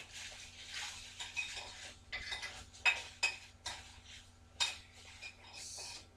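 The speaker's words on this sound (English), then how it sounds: "We're going to go ahead and mix that in there nice and" A spoon stirring butter into warm mac 'n' cheese in a pot: soft, irregular scraping and clinking of metal against cookware, with a few sharper clinks, quiet and close, with no voices.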